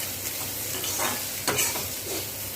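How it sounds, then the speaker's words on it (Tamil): Grated coconut sautéing in a pan, a soft continuous sizzle broken by a few scraping swishes of a spoon stirring it, close and without voices. "தேங்காய் சேர்த்து கொஞ்சம் நேரம் நம்ம வதக்கி கொடுக்கணும்"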